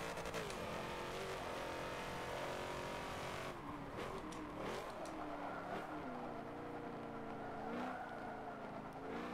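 Race car engine in Forza 7, a continuous high-pitched close engine whine that rises and falls with gear shifts and revving throughout, with faint tire noise.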